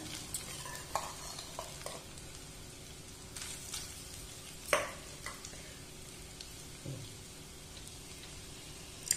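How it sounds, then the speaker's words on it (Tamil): Grated coconut is stirred and roasted in ghee over a medium flame, with a faint, soft crackle under scattered scraping taps of the spoon against the pan and one louder knock midway. "இதை இப்போ மீடியம் ஃபிளேம்ல வச்சு கொஞ்சம் நல்லா வறுத்து எடுத்துடலாம்"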